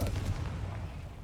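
The Confringo blast spell in Hogwarts Legacy lands as a deep, rumbling explosive boom that swells and then decays over about a second.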